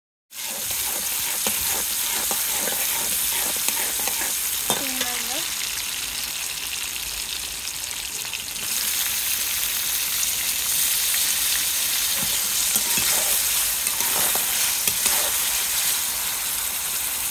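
Chopped onions hit hot oil in a pan over a large clay stove, a loud steady sizzle and spatter running throughout, close up, with people talking over the frying.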